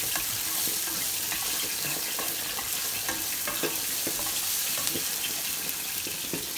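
Green plantain frying in a pan while being stirred, a steady close sizzle with scattered scraping ticks from the spoon running under it throughout.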